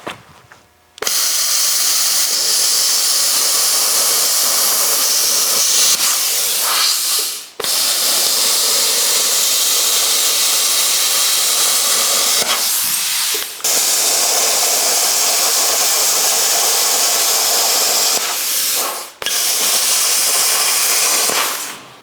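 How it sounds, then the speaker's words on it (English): An angle grinder cuts through a 1956 Chrysler car bumper, throwing sparks: a loud, continuous high-pitched grinding hiss in long sustained passes, broken by a few brief pauses. "Let's cut this bumper in half."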